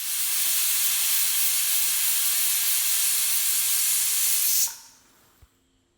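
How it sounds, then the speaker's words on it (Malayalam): A pressure cooker cooking beef lets out a loud, sustained steam hiss, a continuous rushing whistle close by that cuts off abruptly near the end, followed by a brief quiet and a small clunk. "ആറ് വിസിൽ വന്ന് കഴിഞ്ഞു."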